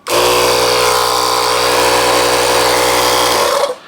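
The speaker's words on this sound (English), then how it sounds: "And now we'll flip the compressor on." The portable air compressor built into a JF.EGWO jump starter switches on and runs with a loud, steady mechanical buzzing hum close by, then cuts off abruptly near the end, with no talk.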